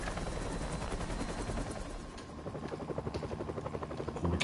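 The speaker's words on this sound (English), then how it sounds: "They're stealing a chopper." A helicopter being stolen by escaping prisoners in the 2018 Spider-Man game, its steady rotor roar running throughout under bursts of gunfire-like rattling, loud and close with a brief dip midway.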